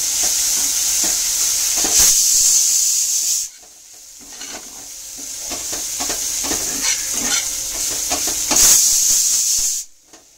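A spice mix of ground cumin and coriander sautés in a hot pan, loud steamy sizzling with scraping stirs, a sudden quieter stretch, then a renewed hiss before cutting off.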